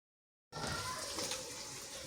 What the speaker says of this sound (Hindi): इसमें थोड़ा सा पानी ऐड करेंगे